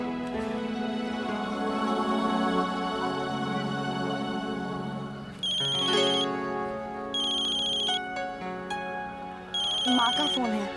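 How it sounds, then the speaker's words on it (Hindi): A mobile phone ringtone plays a repeating electronic melody in bursts, with background voices and music beneath it. "माँ का फोन है।"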